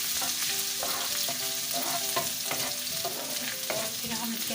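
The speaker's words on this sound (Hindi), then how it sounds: "अब हम इसके अंदर अदरक लहसुन का ये पेस्ट डाल देंगे। थोड़ा सा हमने इसको भूनना है" Onion with ginger-garlic paste fries in a pan, giving a steady dense sizzle with occasional clinks and scrapes of stirring, close and continuous without speech.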